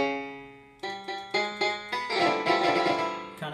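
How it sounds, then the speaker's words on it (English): Plucked dulcimer notes in a country song arrangement, starting with a sustained ringing tone, then a run of distinct strums that thicken into a fuller chordal passage, loud and close with no voices. "So I added a dulcimer,"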